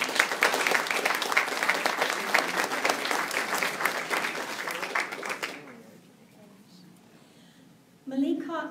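Audience at a member meeting applauds award winners, a dense burst of clapping for about five seconds that fades into a quiet room before a voice begins at the end.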